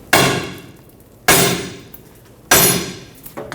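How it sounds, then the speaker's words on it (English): Three heavy hammer blows on a seized lower control arm bushing of a 2003-2012 Chevrolet Colorado, about a second apart, each a sharp ringing metal strike that decays before the next, then a lighter tap at the end. "Let's see what we can do by just tapping it with a hammer."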